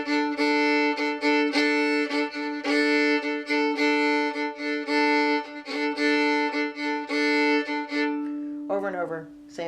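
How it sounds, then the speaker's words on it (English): A fiddle plays a steady, bouncy shuffle bow rhythm with repeated short strokes on sustained strings, close and clear, stopping near the end before a brief voice. "the first rhythm that I show in the sheet music is the shuffle bow rhythm"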